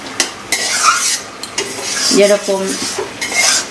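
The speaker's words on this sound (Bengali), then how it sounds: "আগে ভালো করে মাংসের মতো কষাই করে নেওয়া হচ্ছে এখানে" A spoon stirs and sautés a banana-flower filling for chops in a pan: metal scrapes, clinks and soft sizzling come in irregular strokes close by, and a voice briefly speaks over them.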